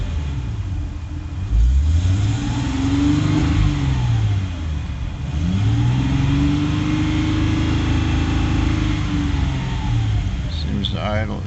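A 1994 Jaguar XJ12 engine runs steadily at idle, then rises through a few smooth revs that swell and fall back, a loud, close mechanical hum with a rough edge.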